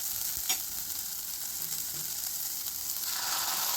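Drumsticks dropped into a pan of frying tomatoes for a drumstick dal, a steady bright sizzle with a brief clatter near the start and the hiss swelling louder toward the end.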